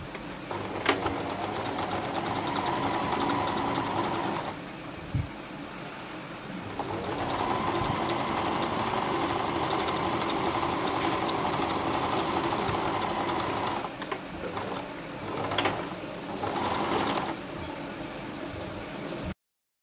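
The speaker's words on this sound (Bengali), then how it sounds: "দেখুন দুই পাশেই আমি এতটুকু করে কানি বের করে সেলাই করে নিচ্ছি।" A sewing machine stitches along a folded fabric edge in a steady, loud mechanical whir that runs almost without a break, with two short pauses, and no voices over it.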